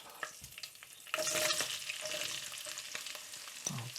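Chopped onion frying in a pan for chicken a la king, a quiet sizzle that swells suddenly into a louder crackle as food hits the fat, with light stirring scrapes, close and free of talk.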